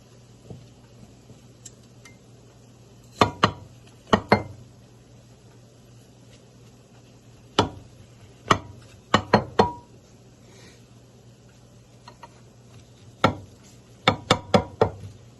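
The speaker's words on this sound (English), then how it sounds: "Then I'm just going to take my knife and slice them in half." A knife cuts baked sweet potatoes in half in a pan, giving sharp, clicking taps that come singly and in quick clusters of two to four against a quiet background.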